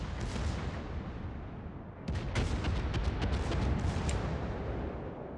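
Rapid blasts and booms of naval combat in World of Warships, torpedoes striking a ship, with dense rumbling explosions and sharp crackling impacts clustering after a brief lull, loud and continuous throughout.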